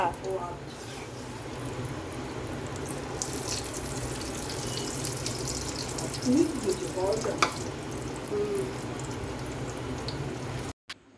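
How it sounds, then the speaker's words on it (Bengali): Meat fries in a pan in a home kitchen, giving a steady hissing sizzle with occasional clinks and a brief spoken word over it. "মাংস ভাজা"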